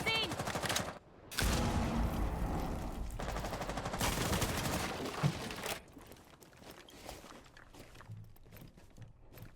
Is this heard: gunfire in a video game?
yes